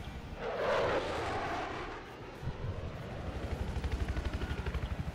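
An aircraft roars past overhead in Battlefield 4, a loud swelling engine whoosh that fades into a steady rhythmic rotor-like thrum of a transport chopper.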